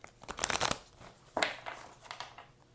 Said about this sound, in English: So I am going to shuffle this deck, split it, and then I will be pulling the cards